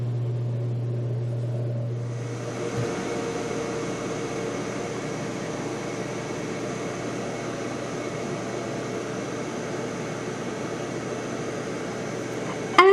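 A Ninja Deluxe Foodi air fryer runs with a steady whirring fan and low mechanical hum while frying ripe plantains, continuous and even, ending with a brief click.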